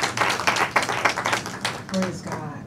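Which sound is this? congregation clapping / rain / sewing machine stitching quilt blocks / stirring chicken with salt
congregation clapping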